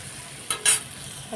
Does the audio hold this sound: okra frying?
yes